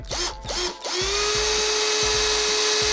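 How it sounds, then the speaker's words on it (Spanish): A small power drill fitted with its smallest bit bores a little hole: a couple of brief whirring starts, then a steady high motor whine with faint rhythmic grinding as the bit bites in, close and alone. "con la broca más pequeña que tengo, voy a hacer la perforación"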